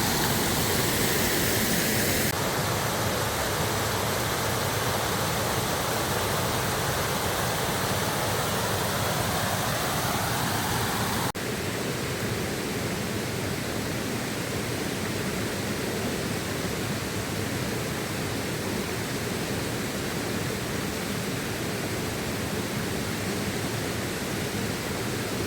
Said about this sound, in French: Je pense que c'est la dernière des cascades, le saut de la Forge.